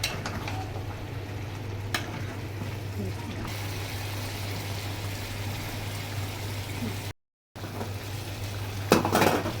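Prawns cook in a tomato gravy as a utensil stirs and clinks against the pan over a low sizzle, with a brief gap and a sharper scrape near the end.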